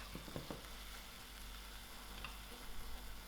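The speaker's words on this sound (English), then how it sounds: "I will allow this mince to fry out." Ground mince sizzles and fries in a pan for mini shepherd's pies, a steady low crackle with a few soft stirring knocks near the start, heard close and fairly quiet with no talking.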